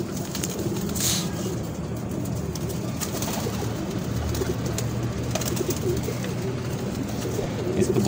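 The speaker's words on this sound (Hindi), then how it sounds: "ये जी अगला कबूतर है।" Star pigeons cooing softly amid continuous rustling and low background noise, with a brief louder call early on; faint voices may be present.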